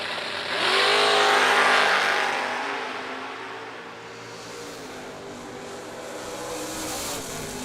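A Camaro drag race car launches and accelerates down the strip, its engine a loud, broad roar that surges in the first seconds, eases slightly, and holds a steady high drone.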